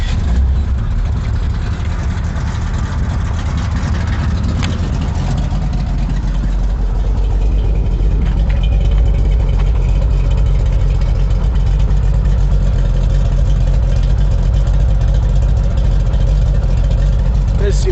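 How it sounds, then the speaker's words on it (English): C4 Corvette V8 idling steadily with a newly installed X-pipe exhaust, a loud, continuous, throaty rumble heard up close. "this seems like it has a little more of an aggressive tone of an idle than it did before"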